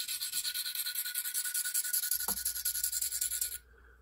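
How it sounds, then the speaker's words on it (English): An S110V steel knife is sharpened on a 160 grit stone, giving fast, rhythmic rasping strokes, close and steady, before stopping abruptly near the end. "The 160 grit from Practical Sharpening cuts beautifully. It just chews through stuff, including S110V."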